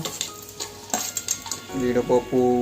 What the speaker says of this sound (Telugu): బిర్యానీ లీఫ్, అవే కదా వేసుకొని లైట్గా రోస్ట్ చేస్తే